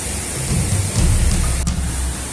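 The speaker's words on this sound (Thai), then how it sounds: "ตอนนี้ฝนตกอีกรอบนึงแล้วนะครับ" Rain falling at Chantathen waterfall during a flash flood, a steady broad hiss of heavy rain with a low rumble underneath, continuous and close.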